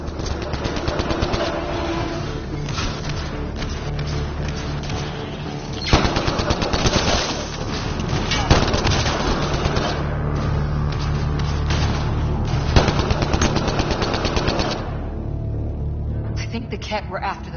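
Rapid sustained gunfire in a firefight in Mass Effect: Andromeda, loud continuous automatic bursts with sharp shots, mixed with shouting voices and game noise.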